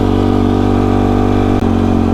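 Yamaha YFZ quad engine cruising in fourth gear, a loud, steady close-up drone with a constant pitch and one brief dip near the end, no talk.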